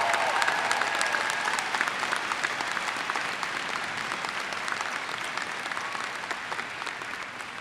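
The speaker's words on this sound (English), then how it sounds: "let's give them a huge round of applause as well" Audience applause at a university commencement ceremony, a dense, sustained clapping from a large crowd that holds steady throughout and slowly tapers.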